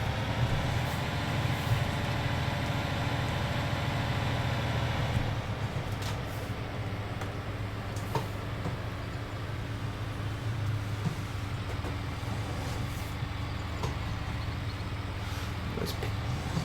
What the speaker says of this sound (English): I will use this tractor for ploughing.